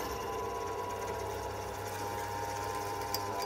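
Drill boring holes through lead tiles, its bit somewhat blunt, running as a steady continuous whir with a buzzing mechanical drone throughout, close and fairly even in level with one brief sharp tick near the end.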